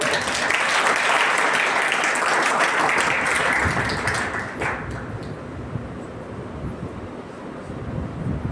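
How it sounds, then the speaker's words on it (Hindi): Loud audience applause at an award ceremony for an orator of the month, dense clapping that fades after about four seconds into quieter crowd and room noise. "तो जोरदार तालियां"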